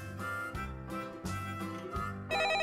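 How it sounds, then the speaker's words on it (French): Telephone ringing in repeated electronic bursts with a bright, tonal warble, close and clear with no voices over it. "Ce matin, c'est le téléphone qui m'a réveillée."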